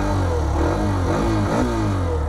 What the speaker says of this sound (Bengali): একবার এক্সস্ট সাউন্ড তোমাদের শুনিয়ে দিই।